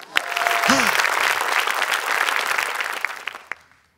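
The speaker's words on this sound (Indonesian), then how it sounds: "Boleh minta tepuk tangannya dulu." A stand-up comedy crowd applauds a comic's arrival, a loud, dense burst of clapping with some cheering that swells, holds, then tapers off to near silence by the end, with a whistle and a few stray claps near the start.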